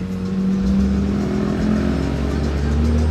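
A modified, non-stock Porsche GT3 RS roars at steady high revs with a strong low engine drone, rising slightly in pitch as it passes close by during outdoor carspotting.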